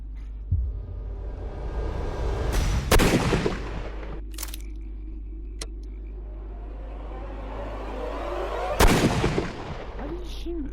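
Gunshots in the Sherlock Holmes: Crimes and Punishments video game, with two sharp, loud shots a few seconds apart over a steady low rumble. A brief thinner crack falls between them.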